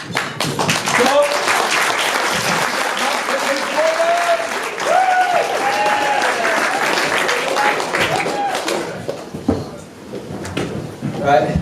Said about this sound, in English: Big round of applause for Taco, ladies and gentlemen